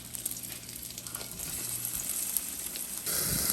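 Bread flipped onto a hot grill pan sizzles quietly and steadily up close, the frying hiss swelling louder in the final half second.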